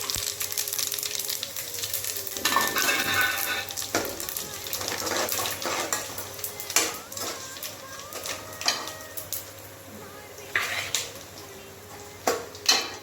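Whole spices such as bay leaf, star anise, cinnamon and stone flower crackle in hot oil for mutton biryani, a soft sizzle with scattered stirring clatters and a few sharper pops, recorded close but at modest volume.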